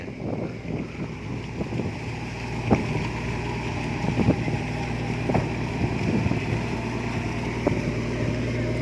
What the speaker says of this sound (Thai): เรือลากหรือเรือโยงครับ กำลังแล่นออกจากแม่น้ำปัตตานี มุ่งหน้าสู่ทะเลอ่าวไทย